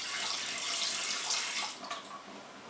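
Water pours steadily into a pot holding a paint-coated metal hinge, a continuous splashing rush that runs close and loud before easing slightly near the end.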